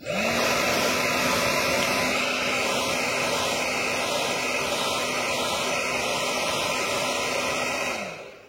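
Hair dryer blowing on a freshly cleaned hairline base before glue is applied, a loud steady rushing whoosh with a faint motor hum that holds for about eight seconds, then cuts off.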